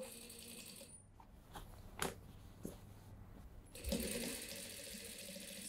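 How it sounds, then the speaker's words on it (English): A sewing machine stitches a seam on a denim tote bag in short runs, close and fairly quiet, with a longer burst of stitching near the end and a few knocks between. "We're stitching the seam around."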